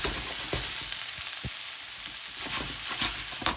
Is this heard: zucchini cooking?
yes